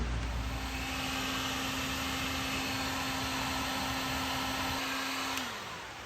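A cheap Harbor Freight heat gun runs with a steady, loud blowing whir and a constant low hum for several seconds, then winds down as it is switched off.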